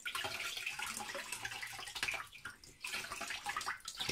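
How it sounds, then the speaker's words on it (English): Tap water runs and splashes over an 8-inch Soligor MT-800 Newtonian telescope mirror, a fluttering, uneven gush that surges and dips as the glass is turned under the stream. "take it under the tap water"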